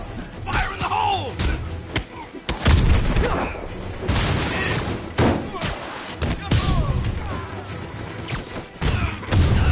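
Explosions and impacts from the Spider-Man video game boom and thud in repeated bursts amid gunfire-like cracks, with character voices shouting over the loud, busy action.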